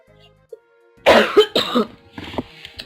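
Someone with a cold coughs several times in a short burst, close and fairly loud, after a brief near-silence.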